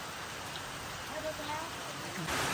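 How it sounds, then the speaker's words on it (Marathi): Heavy rain pours down on a village in Konkan, a steady, dense hiss of drops that fills the scene from start to finish and swells slightly louder near the end. "कोकणामध्ये जोरदार पाऊस चालू आहे"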